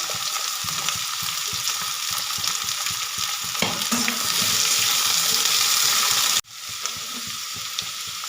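Vegetables such as kohlrabi and pumpkin fry in a pan for a spinach ghonto, a loud, steady close sizzle with stirring scrapes, cutting off sharply near the end and then resuming more quietly.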